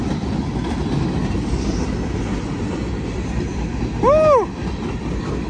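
A BNSF freight train led by locomotives rolls past with a continuous low rumble and rail clatter, while a loud horn-like tonal blast sounds briefly near the end and a voice cheers over it.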